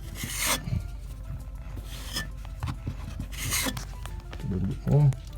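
Filler being pushed and smoothed into a hole in a water-damaged kitchen cabinet, heard as close scraping and rasping strokes in short bursts, with a louder knock near the end.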